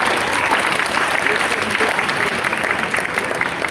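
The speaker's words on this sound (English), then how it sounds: "let's give a round of applause for that" Dense, steady applause from an audience at an outdoor dance performance at the DBS Foundation Outdoor Theatre, a thick wash of clapping that stays loud and even for the whole stretch.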